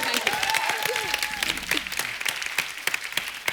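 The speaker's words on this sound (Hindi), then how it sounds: "जोरदार तालियां इनके लिए।" A studio audience at a televised comedy show bursts into loud, steady applause, with a voice briefly heard over the clapping at the start.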